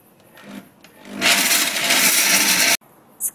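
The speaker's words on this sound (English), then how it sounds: "Place the almonds in a blender jar." A blender grinding soaked almonds roars to life and grinds steadily for about a second and a half, then cuts off abruptly, leaving quiet with a brief clatter at the end.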